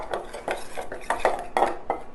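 A tablespoon of oil being mixed into seasoned Brussels sprouts in a bowl, heard as close, quick clinks and scrapes of utensils in an uneven rhythm, alone without talk.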